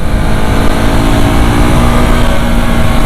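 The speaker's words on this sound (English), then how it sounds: "Can you hear that engine, huh?" A loud, steady engine drone with a rough, buzzing edge from a 2024 Husqvarna Svartpilen 401 motorcycle's liquid-cooled 46 PS engine, continuous and close throughout, holding roughly constant pitch.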